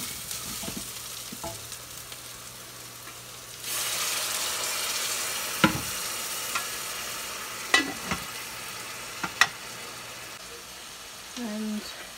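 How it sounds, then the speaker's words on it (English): Tomato sauce in a pan bursts into a steady, loud sizzle partway through, with sharp utensil clicks and taps over the frying hiss in a home kitchen while speech is heard intermittently. "let's wait for this one to sizzle a little bit"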